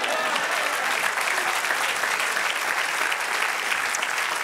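Steady, sustained applause from a large church congregation, even and unbroken clapping filling the whole stretch.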